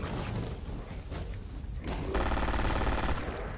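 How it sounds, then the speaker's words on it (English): Gunfire in Fallout 4, with several close shots and then a sustained rapid burst of automatic fire filling the last second and a half. "There's a few shots on him."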